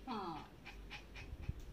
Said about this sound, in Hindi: हाँफना देखो।